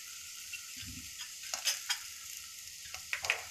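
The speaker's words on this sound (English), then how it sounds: "now we have to saute it for 3 to 4 minutes" Mini pizza topping with oregano seasoning, pepper and salt being sautéed in a pan, a soft continuous sizzle with a few quiet spoon scrapes and light clinks.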